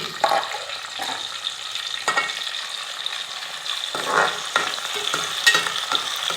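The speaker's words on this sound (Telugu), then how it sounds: "ఉల్లిగడ్డల తర్వాత మెంత వేసుకొని అలా ఇలా కలిపేసుకోవాలి" Onions and fenugreek fry in a pan for a fish curry while a spoon stirs them, giving a soft hiss with intermittent scraping strokes, up close and unaccompanied by speech.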